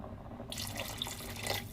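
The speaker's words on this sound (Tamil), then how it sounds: "நான் கொஞ்சோண்டு இதில் தண்ணி ஊற்றிக்க போகிறேன், கொஞ்சமாக." After a brief quiet moment, a little water pours steadily into a boiling cooking pot of red cowpea rice, a soft splashing trickle close by, with no voices.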